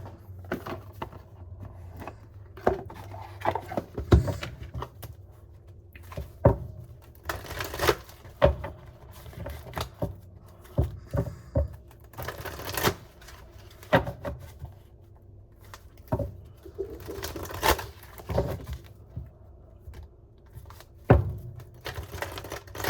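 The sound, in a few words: shuffling cards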